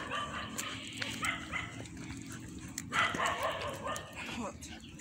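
Dogs barking somewhere in a Ghanaian neighbourhood, faint and distant, with scattered barks and a slightly louder flurry partway through under low background noise.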